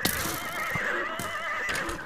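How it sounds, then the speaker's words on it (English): A horse in the Minecraft Hexxit modpack whinnies loudly and shrilly in a wavering, sustained neigh, with faint hoof clops and brief game clicks behind it. "The horse is going insane."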